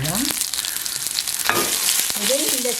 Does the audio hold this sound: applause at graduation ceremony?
no